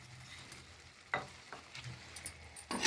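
A spoon scrapes and stirs egg curry with coriander in a pan, giving a few soft, sparse scraping strokes over a faint sizzle, quiet and close.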